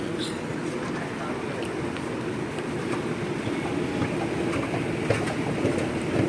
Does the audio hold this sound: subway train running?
yes